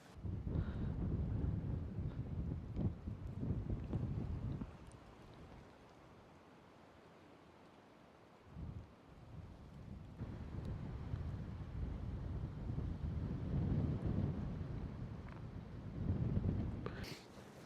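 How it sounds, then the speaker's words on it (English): Wind gusting across a cold Appalachian mountain top, buffeting the microphone in low rumbling surges that drop to a lull midway before building again. "It's rather breezy and cold"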